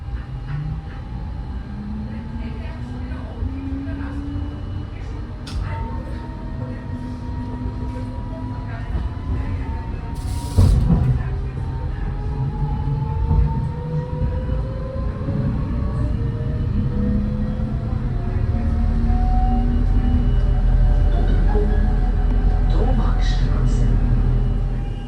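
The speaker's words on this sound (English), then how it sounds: "I board a Line 12 tram to go one stop back to Domagstrasse" Munich Line 12 tram riding through the city, a heavy continuous rumble with rising and falling motor whine, a sharp clank partway through and louder running noise toward the end, with a voice faintly present.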